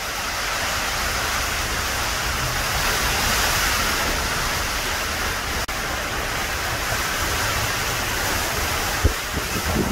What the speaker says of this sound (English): Look at that outside, water running down everywhere. Absolutely pee down.